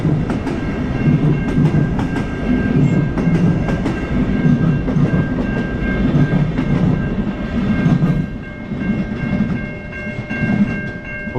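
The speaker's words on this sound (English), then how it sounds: "There you got a Via train." A Via Rail passenger train rolls past in Montreal, a steady loud rumble of wheels on track with rhythmic clicking pulses throughout, heard alone without talk.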